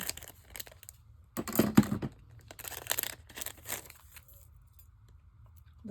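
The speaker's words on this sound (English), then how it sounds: "So let me see if I can open this. Let me get my scissors here." Scissors snip and tear into a plastic package from an online haul, giving several close, sharp crinkling and cutting bursts between quiet pauses.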